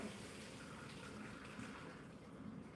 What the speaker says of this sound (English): So I'm just going to run cold water over them